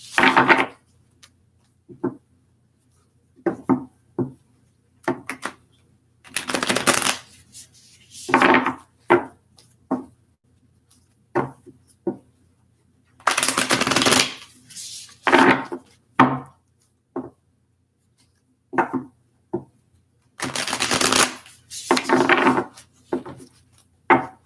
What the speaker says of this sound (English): Just a couple more shuffles here for Virgos.